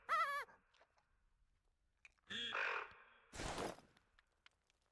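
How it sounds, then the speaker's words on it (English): Wild birds call in theHunter: Call of the Wild, with a harsh crow-like caw followed by two louder, rougher calls spaced a second or so apart over quiet wilderness ambience. "I do hear some other birds."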